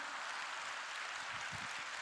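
Applause from a church congregation during a Korean sermon, a dense steady wash of many hands clapping at close range, continuous and unbroken for the whole stretch with no talk over it.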